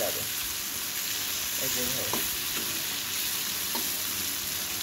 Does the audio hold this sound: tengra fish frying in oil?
yes